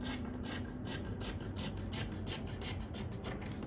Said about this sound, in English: First, I need to trim out this part.